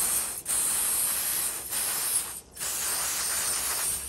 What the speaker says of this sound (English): All right, so I'm just going to try to spray it down.